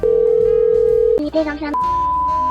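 A telephone call placed to a school, opening with a steady electronic tone, then a brief burst of dialing beeps and a short gap before a higher, continuous tone takes over, loud and close as if from the handset.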